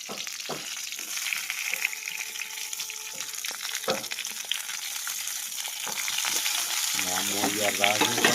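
Green chillies, tomato, onion and ginger fry for chutney in a pan, giving a steady, close sizzle with occasional stirring scrapes; a brief tonal sound rises near the end.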